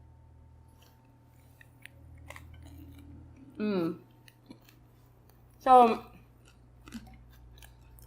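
Crunchy roasted chickpeas and cauliflower bitten and chewed close up, two distinct crisp crunches with quiet gaps and faint clicks, a brief word spoken before the bites.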